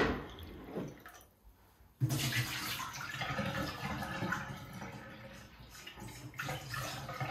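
Silence broken by a sudden rush of water pouring steadily into a vessel, close and continuous for several seconds, with no talking.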